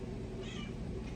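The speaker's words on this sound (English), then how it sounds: "you can actually see her meowing and stuff" A pet cat meows at close range in a quiet room, one short, clear meow in the middle of a steady low background hum, with no talking.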